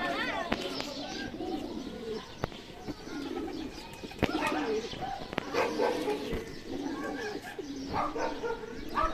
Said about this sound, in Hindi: ये दोस्तों बच्चे उड़ते हैं ऐसे कबूतरों के।